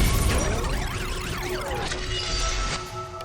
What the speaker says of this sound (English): glass is tumbling onto the deserted streets.